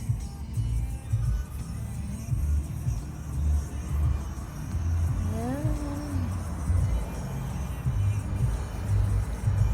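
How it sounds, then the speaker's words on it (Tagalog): Slow road traffic on a Cyprus road narrowed to one lane by roadworks, heard as a low, uneven rumble of nearby cars with a faint passing whine, fairly quiet overall. "Kaya medyo traffic siya guys."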